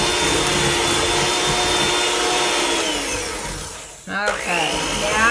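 Electric hand mixer beating ginger molasses cookie dough in a bowl, a loud steady whir close up that dips briefly and then resumes with no talk.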